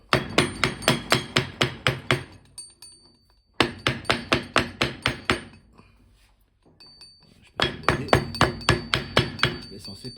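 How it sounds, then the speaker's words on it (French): A wooden mallet taps repeatedly on an engine pulley to knock it loose during a connecting rod and rod cap replacement, giving sharp, evenly spaced knocks in three bursts separated by short pauses, close and clear with no talking. "On va essayer de l'enlever avec le marteau. Marteau en bois, vous tapez dessus."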